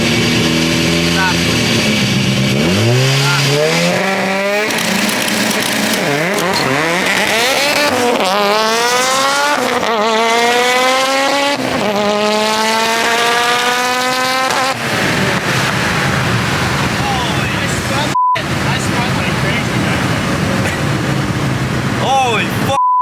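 An Audi RS3 race car revs hard on its two-step launch control, popping and crackling, then launches with a loud rising engine wail climbing through several gear changes, close up from inside the car.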